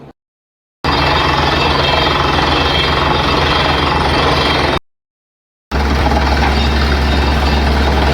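A borewell drilling machine pounds and roars loudly and steadily up close, in two long stretches separated by brief silent gaps, with no talk.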